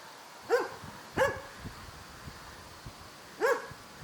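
A chained dog barks three times outdoors, two sharp barks close together near the start and a third after a pause, fairly close and moderately loud over a quiet background.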